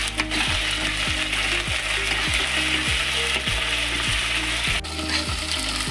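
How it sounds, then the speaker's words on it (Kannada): Garlic and green chilli paste frying in hot oil in a pan, a steady loud sizzle running throughout with no voices over it. "ಈಗ ನನ್ನ ಅಲ್ಲ ಬೆಳ್ಳುಳ್ಳಿ ಪೇಸ್ಟ್ ಹಾಕ್ತೇನೆ ನೋಡ್ರಿ ಇದನ್ನ ಇದನ್ನು ಎಣ್ಣೆ ಒಳಗೆ ಫ್ರೈ ಮಾಡ್ಕೊಳ್ಳೋಣ್ರಿ"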